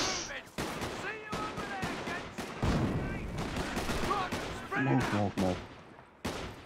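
Mortar and artillery fire in the Company of Heroes 1 Great War 1918 game: repeated gunfire bursts and blasts mixed with battlefield clamour, partly under talking voices.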